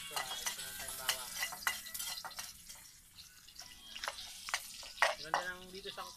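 Garlic stir-fried with string beans and mushroom in a pan: a soft, steady sizzle broken by repeated scraping stirs and light clinks of the utensil, fairly close.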